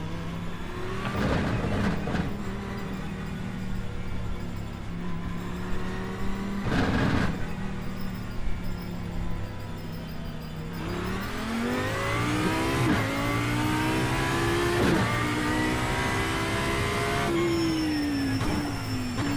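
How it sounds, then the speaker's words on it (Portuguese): A race car engine in a racing video game revs and climbs through gears, whining up and dropping back repeatedly, loud and continuous with shifting pitch throughout. "Carro 6 acaba de fazer a volta mais rápida."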